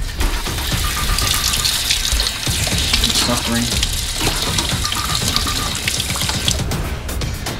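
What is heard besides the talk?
hot water running from a tap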